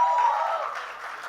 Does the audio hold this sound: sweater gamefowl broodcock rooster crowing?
no